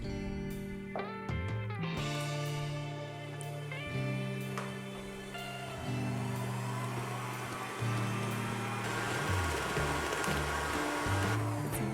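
Electric mixer whirring steadily through cupcake batter after whole milk is added, a continuous loud motor drone with shifting pitch and a few clatters of the beaters against the bowl.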